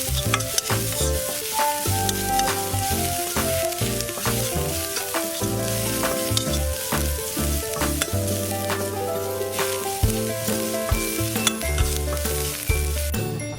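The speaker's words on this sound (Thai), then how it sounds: "ผัดจนกระเทียมเริ่มเหลืองแล้วก็ส่งกลิ่นหอมค่ะ" Garlic sizzles and fries steadily in a hot pan, with a utensil stirring and scraping throughout, loud and close with no voices.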